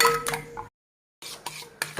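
A utensil clinks and scrapes rapidly against a bowl, whisking eggs with sugar in short bursts, briefly stopping before resuming, close and clear.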